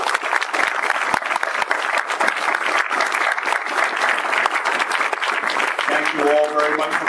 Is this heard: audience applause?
yes